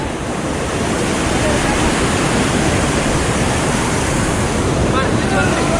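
A hidden waterfall in the hills near Gudalur, roaring as a loud, steady, continuous rush of water heard close up and filling the whole scene without a break.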